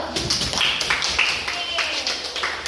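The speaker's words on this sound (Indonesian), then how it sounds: "Tepuk tangan dulu terus tuh." Fourth-grade primary school pupils clap in a classroom during a science lesson. The claps come in a quick, rhythmic series of sharp, close hand-claps.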